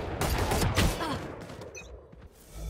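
Gunfire from a slow-firing gun in the video game Valorant, heard as a few loud cracking shots with decaying echoes over game ambience, followed by small mechanical clicks, with no talking.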